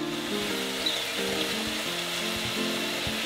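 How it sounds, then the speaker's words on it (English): Bacon and leeks sautéing in a pan give off a steady close sizzle and crackle, with a low pulsing hum underneath throughout and no talking. "I'm going to saute mine with some bacon"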